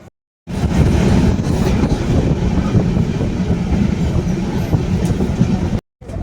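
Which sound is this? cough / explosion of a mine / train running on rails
train running on rails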